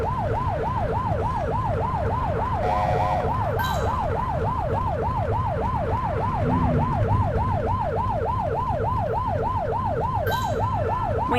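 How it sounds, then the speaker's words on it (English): A police car siren in the video game The Precinct wails in fast, rising-and-falling cycles, loud and continuous, over a low engine rumble. "get behind them and blip the siren and make them pull over"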